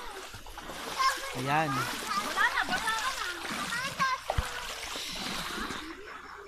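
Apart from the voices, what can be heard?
water splashing in a creek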